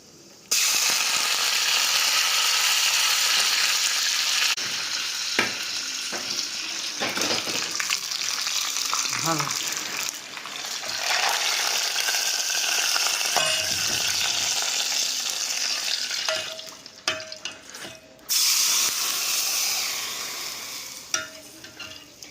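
Tempering seeds and curry leaves sizzle loudly in hot oil, a steady, close hiss broken by scraping stirs and clicking utensil sounds, with a brief drop in the middle and near the end.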